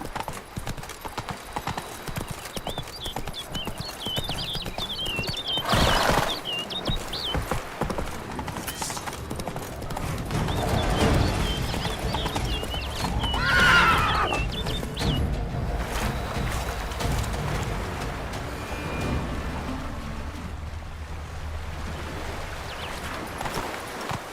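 Roach, the horse in The Witcher 3, gallops with a steady, close clip-clop of hooves over ambient game sound, and a brief neigh breaks through midway; no one talks.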